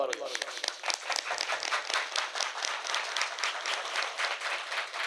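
Audience at a Punjabi poetry gathering (mushaira) breaks into sustained, steady clapping that carries through the whole stretch at moderate level, with no speech over it.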